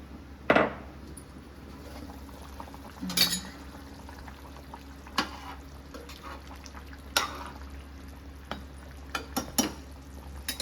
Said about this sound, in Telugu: ఇలా ఉడుకుతుంది కదా